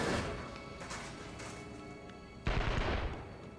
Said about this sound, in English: Why do I hear gunshots?